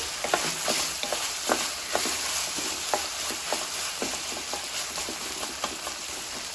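A pan of carrot, tomato, potato, capsicum and beetroot sizzles steadily while a spoon stirs it in repeated scraping strokes, close and moderately loud, with no talk.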